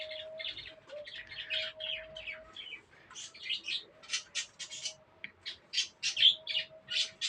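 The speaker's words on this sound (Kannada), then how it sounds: "ಪಕ್ಷಿ ಕಿರ್ಚಾಡ್ತಾ ಇದೆ, ಏನು ಅಂದ್ಕೋಬೇಡಿ." A bird outdoors in a village calls again and again with sharp, high screeching chirps in quick bursts. The calls grow louder and more frequent toward the end, with a faint steady hum underneath and no talking.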